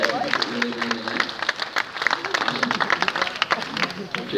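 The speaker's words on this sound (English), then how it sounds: "Everybody, huge round of applause for David." Outdoor crowd applause for a street performer in Copenhagen, a steady wash of many hands clapping at moderate distance with a voice and scattered noise mixed in.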